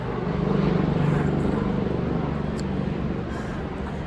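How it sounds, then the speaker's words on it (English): Propeller airplanes pass overhead near a teaching airport, a steady broad engine drone that swells slightly and then slowly fades, heard outdoors with no talk. "You can hear the planes going overhead."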